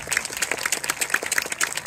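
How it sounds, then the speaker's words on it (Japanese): Crowd applause at the final of the 2023 All-Japan Beach Soccer Championship in Akashi, honoring the referees and both teams. It sounds as a steady, fairly faint wash of clapping from a distance. "今一度審判団、そして両チームに大きな拍手をお願いします"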